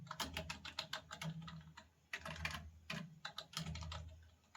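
Rapid clacking keystrokes on a computer keyboard as a folder name is typed, coming in several quick bursts separated by short pauses, close and fairly clear over a low background hum.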